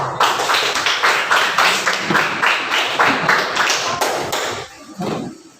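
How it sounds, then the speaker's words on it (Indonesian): A sixth-grade class in a primary school classroom claps together in a loud, rapid burst of applause lasting several seconds, the claps dense and steady before tapering off near the end. "Ya, silakan boleh tepuk tangan."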